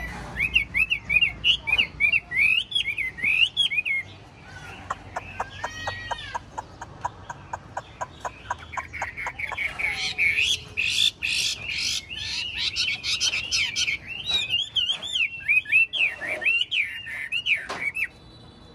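A tame Chinese hwamei songbird with a golden-yellow beak sings close by: loud, varied whistled phrases, rapid repeated notes and warbling trills in a continuous run, with no speech.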